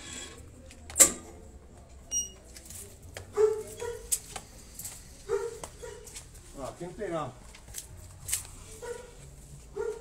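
A female dog left alone in an overgrown lot whimpers and yips in short, scattered bursts, faint and moderately close, while someone speaks over the sounds.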